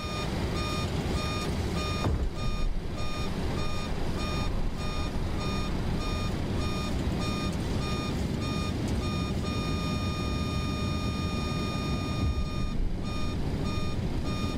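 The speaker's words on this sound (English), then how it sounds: "What on earth is making that noise? Oh, it's the speed brake." A steady repeating warning beep from the speed brake sounds in a FlightSim Studio 727-200F cargo jet cockpit in MSFS 2024, pulsing regularly throughout over a constant engine and cabin hum.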